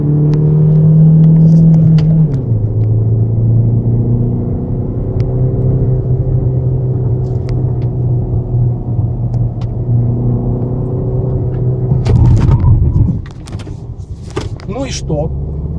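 A Hyundai Tucson on a test drive builds speed with a steady low engine and road rumble, close and continuous from inside the cabin, and a voice talks over it, with a few clicks and knocks near the end.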